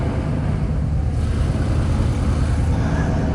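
A project truck driven on the road after a driveshaft repair, its engine a steady low rumble with road noise, moving slowly and evenly throughout.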